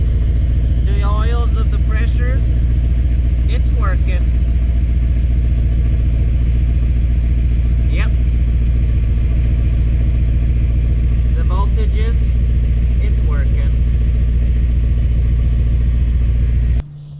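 A hot rod car engine idling steadily with a loud, deep, even rumble that holds for the whole stretch, with a few voices speaking over it, then cutting out at the very end.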